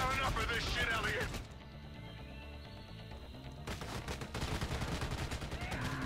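Gunfire in the Army of Two video game, Lijiang River mission in China, with bursts of shots in the first second, a quieter stretch, then more rapid fire mixed with game noise.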